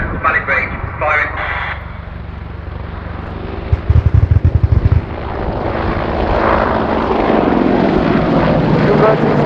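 A British Army AgustaWestland Apache helicopter performs a 360-degree wingover at an air show, its loud rotor and engine roar holding steady, with a brief burst of rapid rotor chop in the middle and commentary over it.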